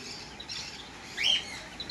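Small sparrows chirp in a bird cave enclosure at a fish theme park in Sawantwadi, Konkan, with light high twitters throughout and one brief louder call near the middle.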